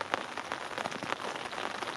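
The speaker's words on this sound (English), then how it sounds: "I hope this rain stops." Steady rain patters on a surface at a lakeside carp fishing camp, a dense continuous hiss of drops close by with no voices.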